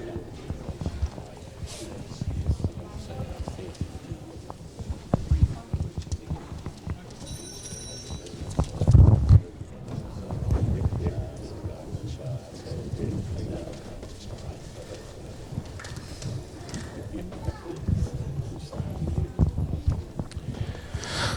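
Hooves of a grey dressage horse from South Australia performing a Grand Prix test in an arena, soft irregular thuds and clip-clops at a distance beneath a commentator's voice and faint crowd ambience.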